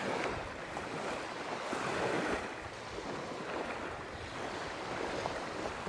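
Steady wind rushes against a fishing boat out fluke fishing off the Jersey Shore, making a continuous broadband roar with faint wave wash beneath, fairly loud and unbroken, with no talking.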